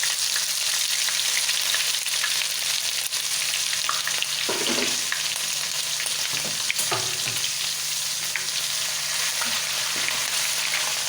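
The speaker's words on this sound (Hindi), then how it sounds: "3 हिस्से घी मैंने इसमें गर्म कर लिया है और इसके अंदर मैंने लहसुन अदरक का पेस्ट डाल दिया।" Garlic ginger paste frying in hot ghee, a dense, constant sizzle up close with a few soft stirring scrapes through the middle.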